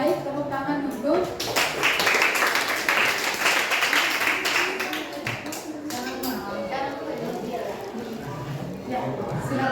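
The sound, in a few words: class clapping hands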